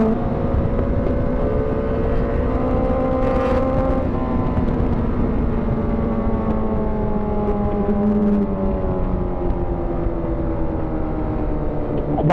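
Continuous high-revving sport motorcycle engine heard from the rider's seat, a sustained loud whine with shifting pitch as gears change, another bike passing close by partway through, wind rushing throughout.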